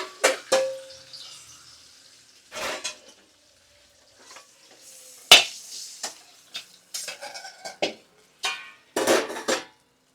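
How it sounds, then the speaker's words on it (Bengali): Kitchen clatter as a fried katla fish head is lifted from hot oil into a bowl: sharp metal-on-metal scrapes and knocks in scattered bursts, with a faint sizzle between them, close and fairly loud. "এবার আমি একটা পাত্রে তুলে রাখবো।"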